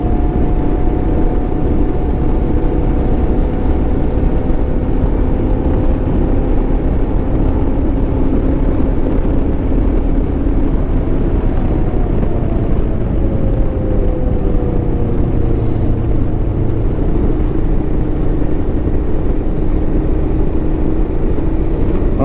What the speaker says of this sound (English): Hear a little whine. Pretty sure it's the front tire.